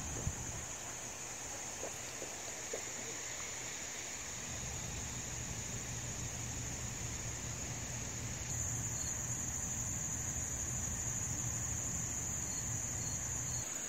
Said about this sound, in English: Giant spider caught a cicada.